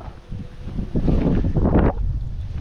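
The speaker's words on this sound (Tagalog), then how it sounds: "Sarap pero masarap yung hangin." Gusty wind on an island coast roars across the microphone in loud, rough bursts, swelling toward the middle before easing off.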